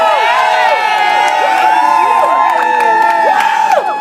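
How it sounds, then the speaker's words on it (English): A crowd cheers and whoops with excited, high voices to welcome Mary Hall of New Elm City Dream, a continuous loud roar with overlapping shouts. "Give a round of applause for Mary."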